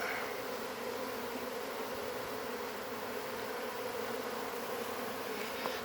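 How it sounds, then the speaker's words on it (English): Dense, steady buzzing of many Carnica honeybees, loud and continuous throughout with no pauses. "There's a little ball of bees."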